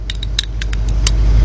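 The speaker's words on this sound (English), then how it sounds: "then we're gonna get our 3/8 drive ratchet" A 3/8 drive ratchet picked up and handled during Hyundai XG350 timing belt work, giving several light metallic clinks and rattles over a loud, steady engine-bay hum.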